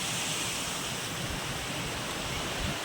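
Water rushes below the first glass bridge in Konkan, at Vaibhavwadi near the Napne waterfall, a continuous broad hiss of flowing water heard alone, steady and fairly even.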